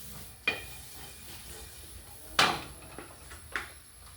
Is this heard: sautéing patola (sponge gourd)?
yes